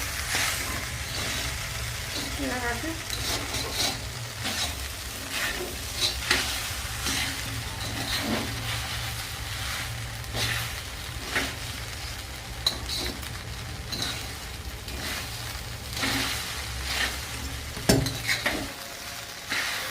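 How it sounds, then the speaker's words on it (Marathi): Sabudana khichdi stirred and sautéed in a pan on medium gas: continuous sizzling with repeated scraping spoon strokes throughout, close and moderately loud, no voices. "याला आपल्याला जवळजवळ बारीक गॅसवर पाच मिनटाची चांगली मस्त परतून घ्यायची बघा"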